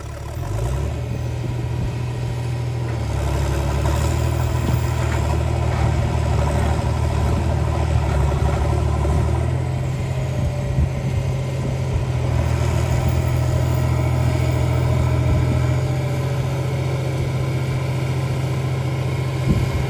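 A tractor stuck in packed harvest-field mud runs with a steady, loud, low diesel rumble that swells slightly partway through and holds for a long stretch, close by, with no voices.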